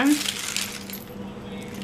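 Keys on a keychain carrying an anime Red Blood Cell charm jangle and clink close by in a brief, busy burst of metallic rattling.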